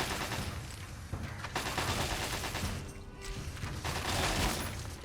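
Gunfire in Fallout: Tale of Two Wastelands, a dense fusillade of crackling shots and mechanical clatter, continuous and fairly faint, with bursts rising and falling over several seconds.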